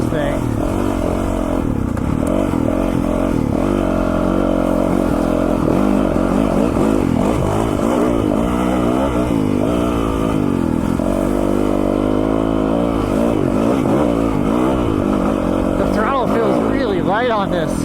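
A 2021 Yamaha YZ450FX dirt bike's engine revs up and down repeatedly while being ridden, loud and close over constant wind noise, with rising and falling pitch sweeps.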